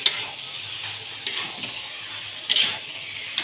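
Desi chicken cooking with spices in a kadai, a soft steady sizzle with a few light scrapes and clicks from the stirring spoon, fairly quiet and close.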